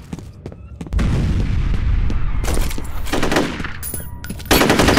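Grenade blast amid gunfire in the video game Fear Combat, with rapid machine-gun bursts and sharp booming hits at close range that come in loud clusters.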